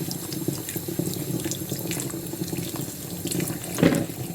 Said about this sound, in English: I've got my carrots here which I'm washing.